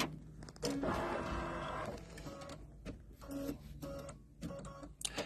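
A computerized embroidery machine stitches a quilt block for a KimberBell seasonal ladder quilt, its motor whirring in short bursts with pauses between, quiet and close by.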